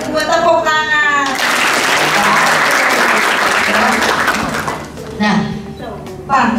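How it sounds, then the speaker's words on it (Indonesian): Applause from an audience at a regional youth ambassador pageant in Cilacap, Indonesia, a burst of dense clapping that swells and holds for several seconds between stretches of a speaking voice, then fades as talk resumes. "Gue tepuk tangan"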